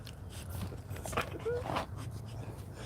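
A dog whimpering and yipping in short soft bursts at close range over a low background hum, with faint movement sounds in between.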